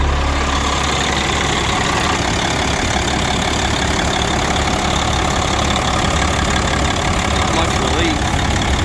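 A car engine running at an auction, a steady, loud idle with a constant low rumble and mechanical chatter that holds unchanged throughout.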